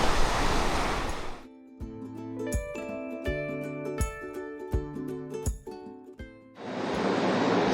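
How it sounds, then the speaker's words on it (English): Rough ocean surf pounds a rocky beach on Kauai, a loud broadband roar at the start and end with music in between. "the water is pretty rough here, so you gotta be an experienced swimmer to go out there."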